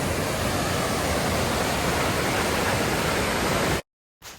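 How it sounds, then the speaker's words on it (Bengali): Jogini waterfall near Manali roars as a loud, steady broadband rush of falling water, holding constant for nearly four seconds before cutting off abruptly, with a faint return of noise at the very end. "যোগিনী ওয়াটারফলস কতটা সুন্দর লাগছে দেখুন"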